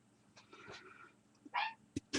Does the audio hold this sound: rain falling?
no